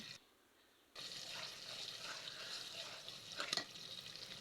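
Pangas fish frying in hot oil under a lid gives a steady, fairly quiet sizzle after a brief near-silent start, with a couple of sharper spatters near the end.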